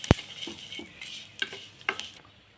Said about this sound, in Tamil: கருப்பு எள்ளு, இதை நல்லா வறுத்துக்கலாங்க. நல்லா பொரியும்.